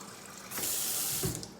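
Filtered water pours steadily from a kitchen sink tap fitted with a purifying filter, a bright hissing stream that starts abruptly and runs for about a second before tapering off.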